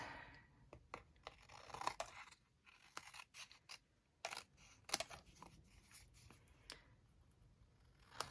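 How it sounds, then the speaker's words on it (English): Scissors snip repeatedly through paper card stock during card-making, with quiet, close, irregular cuts and small rustles. "you're just cutting"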